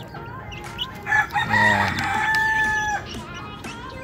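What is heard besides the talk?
chickens clucking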